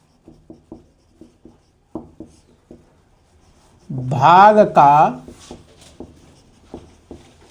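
A hand writes a geometry formula on a board or page during a Hindi maths lesson on the area of a circle sector. A series of short, light scratching strokes comes first, then a voice speaks close up.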